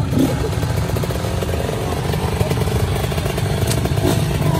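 A motorcycle engine revs steadily and loudly up close after being flooded on a muddy lake trail, its dense rough drone filling the whole stretch with some clatter and no clear talk.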